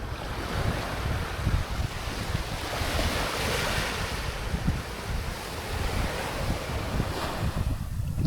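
Ocean surf washing steadily onto a beach at a private island resort in Coron, with continuous wave wash and wind buffeting the microphone, fairly loud and without speech.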